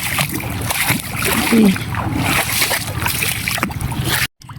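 Splashing from people swimming in shallow sea water off Samar, a broad wash of water noise running steadily throughout, with voices talking over it and a brief drop to silence near the end.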